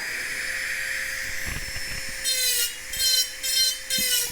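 A Mastercarver Micro-Pro power carver with a cutter bit whines at high speed, and from midway it cuts into wood in several short, louder rasping bursts over the steady motor tone.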